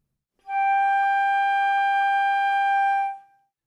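Flute sounding a single sustained G natural in the second octave, a pure steady tone held for about two and a half seconds before tapering off, close and alone.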